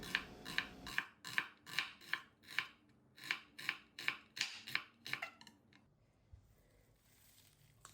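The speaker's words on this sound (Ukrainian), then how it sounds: "Тут я нарізаю петрушку" Parsley being chopped with a knife on a cutting board for a Korean-style vegetable salad: about a dozen crisp, evenly spaced cuts, close and fairly loud, then stopping and leaving quiet room tone.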